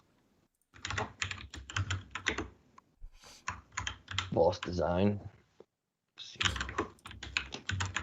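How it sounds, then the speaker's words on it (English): Rapid clicking keystrokes on a computer keyboard come in bursts while typing in a chat, close and fairly quiet, with someone briefly speaking between the runs of keys. "I'm typing in the chat"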